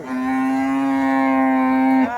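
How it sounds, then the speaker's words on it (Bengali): A cow at a cattle market gives one long, loud, steady moo close by, holding its tone for about two seconds before breaking off. "গাই গরু অনেক গাই গরু"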